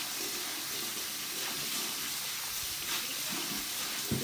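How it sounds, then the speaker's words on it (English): Tap water runs steadily over rice in a bowl at a sink, rinsing away cloudy starch for a steak, pepper and shrimp dinner; a continuous close splashing rush with small knocks and clinks near the end. "Just gonna keep rinsing it until like it's not cloudy no more. Get all that starch off the rice."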